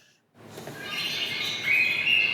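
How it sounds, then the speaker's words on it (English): A bird chirps and twitters continuously, fairly close, with a bright high trill near the end over a soft background hiss. "Oh, a bird twitting."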